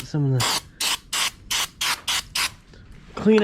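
Cheap ether cleaner sprays onto a tractor part in seven short, loud, evenly spaced hissing bursts, with a voice just before and after.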